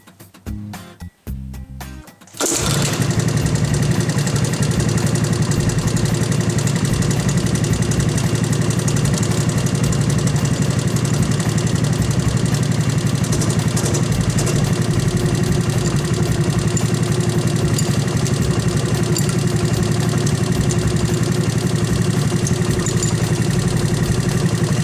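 A 1984 Honda ATC200S engine idles steadily and loudly close up, with a faint cam chain rattle ticking beneath the even running. No voices are heard.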